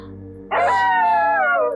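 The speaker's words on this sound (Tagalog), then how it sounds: "Bakit tumaalulong ang mga aso ko?" Dogs howl together in a single sustained wavering howl that rises abruptly after a quiet start and holds, near and loud, with no talking.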